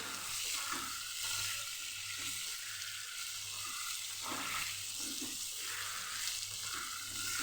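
Potatoes for a Kathiyawadi okra-potato curry frying in a pan, giving a continuous hissing sizzle with occasional soft stirring movements, close and even, no voices.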